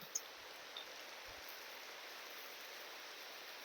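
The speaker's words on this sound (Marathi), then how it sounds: "पाऊस पण आता जोरात यायला लागलाय. खाली बघू शकता आपण, थेंब पडतायत" Rain falling steadily outdoors with drops hitting the ground, a faint, even hiss of downpour with no voices.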